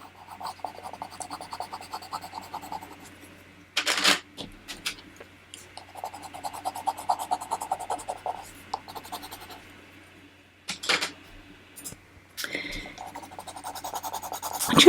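A watercolour pencil scratches on paper in short, irregular sketching strokes with brief pauses between them, close and fairly quiet.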